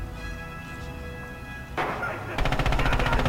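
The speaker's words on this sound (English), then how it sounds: "You have a lot of gunfire coming down" Gunfire in a competitive tournament match of a World War II style shooter game with Axis forces, arriving as dense, loud bursts that swell into rapid repeated automatic fire over a low rumbling background.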